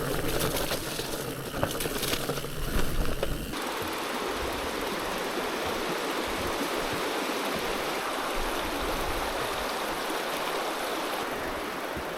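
A river flowing on a Scottish forest route, heard close up as steady, full broadband rushing water with no break from start to finish, with a brief burst of louder splashing or movement in the first few seconds.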